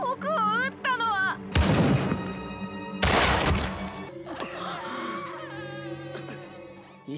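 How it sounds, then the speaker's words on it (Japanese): Two loud, sharp gunshot blasts crack out in an anime battle aboard an airplane, each bursting across the whole range and trailing off, with voices speaking and crying out before and between the shots. "本物の弾丸が発射されたみたいだ"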